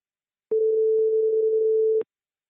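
A single steady telephone tone sounds for about a second and a half, clean and alone, starting and stopping abruptly.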